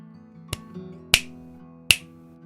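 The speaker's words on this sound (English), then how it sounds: "How about a snap?" Three crisp finger snaps ring out at roughly even intervals over a steady background hum, sharp and close, with no talking.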